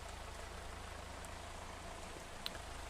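Steady rain in the video game Stardew Valley forms a soft, even hiss of falling drops with no talk.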